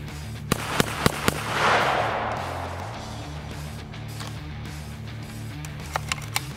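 A Hi Point gun fires four quick sharp shots outdoors, a short pause, then a burst of scattered cracks, and three more sharp shots near the end, with a low steady hum beneath.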